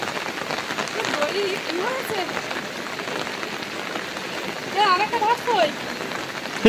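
Rain falling outdoors under dark clouds by a canal during crab catching, a steady close patter on surfaces throughout, with voices talking over it.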